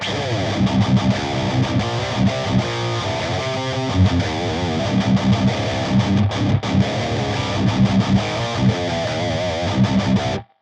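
Heavily distorted electric guitar through a BOSS GX-100 multi-effects pedalboard, without reverb or delay, chugs out a dense, steady metal rhythm, loud and continuous, with chords ringing through to an abrupt stop.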